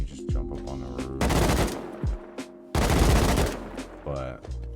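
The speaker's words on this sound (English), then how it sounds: "I don't know why the AK is shooting like that" AK rifle fire in the survival game Rust on a build server, two sharp bursts of rapid automatic shots ringing loud and close, with brief quieter gaps between.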